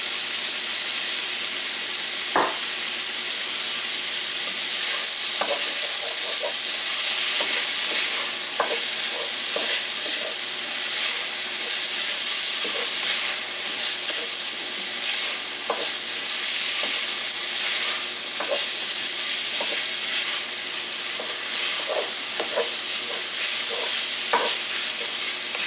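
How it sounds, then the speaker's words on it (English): Vegetables sizzling loudly in olive oil in a pan, a steady close frying hiss broken by repeated scrapes and clacks of a utensil stirring them. "getting them vegetables sweated down real good there."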